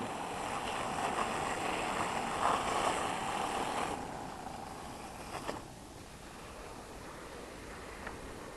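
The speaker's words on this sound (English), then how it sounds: "And then use centrifugal force and spin that roller up." A wet paint roller cover spun fast to fling off water makes a steady whirring, spraying rush that fades after a few seconds, leaving quieter hiss with a couple of small clicks.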